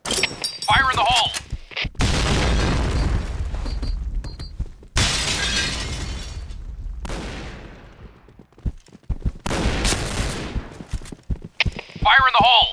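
Grenade blasts and gunfire in the shooter game Project Blackout crash out in loud bursts separated by brief silences, with rattling debris, shattering sounds and a shouted voice near the start and end.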